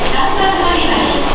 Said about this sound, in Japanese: 要するにここで通過待ち合わせってやつですね